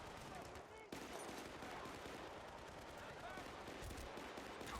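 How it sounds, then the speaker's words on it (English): Dense, continuous automatic gunfire in Battlefield Bad Company rattles steadily for several seconds amid battle noise, loud and close after a brief dip near the start. "Is that a machine gun?"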